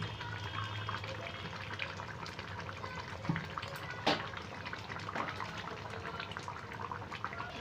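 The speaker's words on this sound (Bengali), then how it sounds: "মাছের ঝোলটা ফুটে গেছে এবার ওপর দিয়ে দিয়ে দেবো অল্প কাঁচা সর্ষের তেল" Raw mustard oil trickles onto a simmering pabda fish curry, a soft, continuous liquid bubbling and pouring with a few faint clinks, quiet and close.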